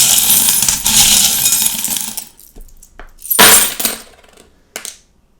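Small metal charms jingle and clatter as they are shaken and dropped onto tarot cards, a bright rattling burst followed by a few short, crisp metallic clinks that trail off into silence.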